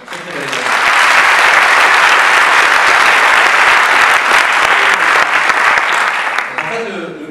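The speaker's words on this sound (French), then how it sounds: "on les a déjà applaudis, mais je pense qu'on peut recommencer" Loud, sustained audience applause at a neuroscience conference evening on brain plasticity, a dense wash of clapping that swells quickly and holds steady for several seconds before tapering at the end.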